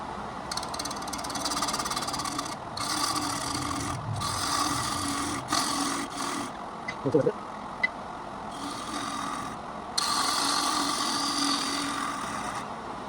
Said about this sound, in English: I'm going to use a bowl gouge, a nice sharp edge, and I'm going to take some very light passes to clean the bottom up